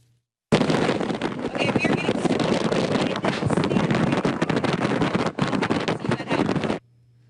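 Strong Hurricane Sandy wind roars and buffets the microphone continuously for several seconds, loud and harsh, then cuts off abruptly.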